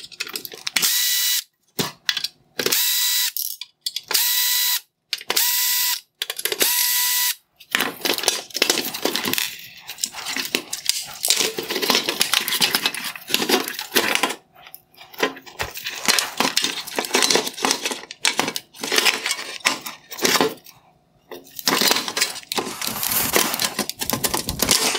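Screws being backed out of a 2016-2019 Jaguar XF / F-Pace LED headlight unit with a T15 driver, giving repeated close ratcheting clicks in bursts, then a long stretch of steady mechanical clatter and scraping against the plastic bracket.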